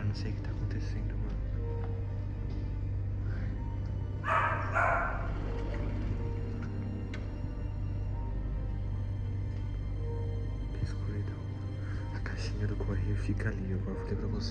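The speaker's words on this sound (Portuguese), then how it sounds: "meu cachorro tá latindo sem parar" A house dog barks in a short burst of several yaps partway through, against a constant low background hum while someone talks anxiously throughout.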